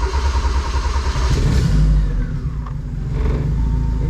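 A turbocharged Ford Festiva engine fires up and runs, a loud, close, steady low rumble with a slight swell in intensity partway through.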